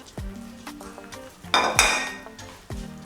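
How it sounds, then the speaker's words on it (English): Oil pours into a hot pan while a spicy oil is made, bursting into a loud sizzle midway among clinks of cookware and utensil knocks, with no talking. "And put the rest of the oil in there."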